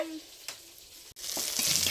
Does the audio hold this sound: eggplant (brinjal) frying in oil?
yes